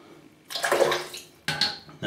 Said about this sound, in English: let me just have a little rinse